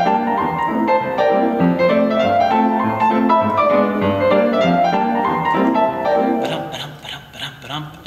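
A stride tune on piano, played with a swung stride feel: loud, lively chords and bouncing bass that carry for several seconds, then fade into quieter rustling near the end.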